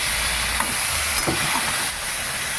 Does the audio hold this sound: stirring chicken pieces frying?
yes